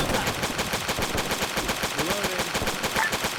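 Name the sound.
gunfire from enemies in a WW2 video game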